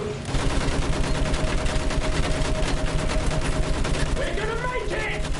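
Rapid sustained automatic gunfire in a war video game, loud and continuous throughout with a few sharp impact flashes near the end, dense and close.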